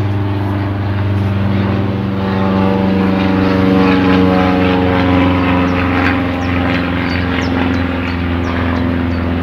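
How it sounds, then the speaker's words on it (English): A propeller airplane drones steadily overhead, its loud engine hum filling the air outdoors with no voices. "I'll just wait till the aircraft goes by."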